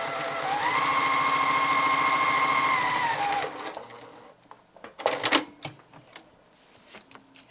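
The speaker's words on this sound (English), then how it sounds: "Bring it back over to the sewing machine. And again, keep that folded down. Just line it up and sew right along the edge." Sewing machine stitching paper piecing along a folded edge, a steady fast whirring run of about three seconds that winds down, followed by handling clicks and rustles of fabric and paper, close and loud.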